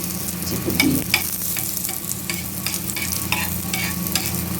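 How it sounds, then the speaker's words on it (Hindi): Chopped ginger sizzles in hot desi ghee while a spoon stirs it, a steady close frying hiss broken by light scraping strokes against the pan, with no voices. "और अब इसके ऊपर ये अदरक डाल के इस तरह से, और इसको चम्मच वगैरह से ऐसे चलाते हुए तब भून लेना है"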